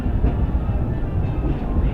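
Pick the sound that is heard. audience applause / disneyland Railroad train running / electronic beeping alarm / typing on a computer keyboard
disneyland Railroad train running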